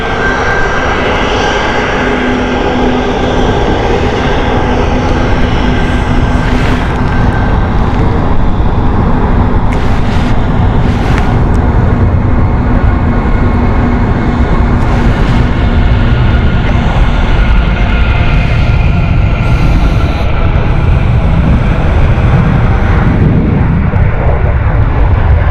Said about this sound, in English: the EasyJet which is coming in is a Stansted flight